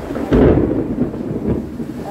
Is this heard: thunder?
yes